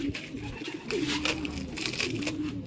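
Stock pigeons being released by a pigeon fancier coo and flutter close by, a few soft low calls and rustling wing or feather sounds over a short stretch.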